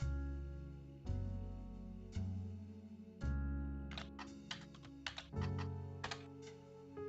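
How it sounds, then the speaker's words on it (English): Computer keyboard typing, close and clear: a few single key presses at first, then a quick run of rapid clicks and taps. "Maybe try typing Wild Bill in here."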